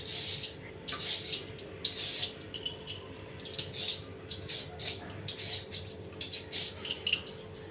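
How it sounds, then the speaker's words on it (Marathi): Sweet potatoes being peeled by hand, skin scraped off in quick repeated strokes, each a short gritty rasp up close with brief pauses between, no voices. "सगळी साल अशी काढून घेऊया"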